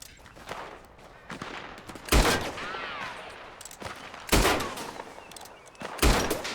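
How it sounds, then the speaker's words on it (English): Three loud gunshots ring out in Red Dead Redemption 2, fired at a door lock, spaced about two seconds apart, each a sharp broadband crack with a short echoing tail over faint ambient game sound. "What if I could shoot the lock?"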